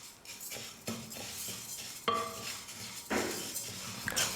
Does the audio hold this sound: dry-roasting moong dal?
yes